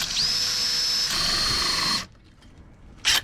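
A hole saw bores through wood for a fuel tank fitting on a wooden boat restoration, giving a steady high whine for about two seconds that stops abruptly, followed by quiet and a brief later burst of noise.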